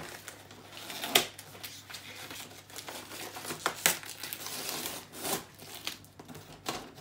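Paper being crumpled, crinkled and torn at a birthday unwrapping, with irregular close rustles and sharp tearing bursts.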